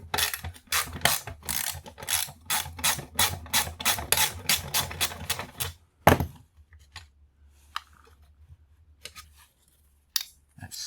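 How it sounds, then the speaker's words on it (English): A ratchet wrench loosens a steel bolt on a clothes iron being scrapped, giving a fast run of loud close clicks for about six seconds, then a clunk and a few scattered taps and rattles. "There's a bolt right here. Let's go ahead and take that off."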